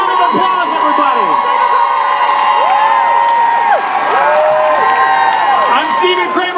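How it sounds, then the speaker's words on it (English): A large audience at a Comic Con panel cheers, whoops and applauds loudly and continuously, with many voices shouting over a dense wash of clapping. "Give them a giant round of applause, everybody."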